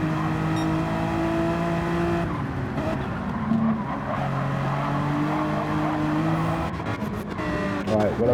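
Race cars overtake each other at Interlagos in a racing video game, with loud sustained engine whines shifting pitch as the cars close up and pass, and a voice commentating over them.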